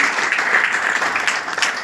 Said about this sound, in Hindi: जोरदार तालियां हो जानी चाहिए दोस्तों।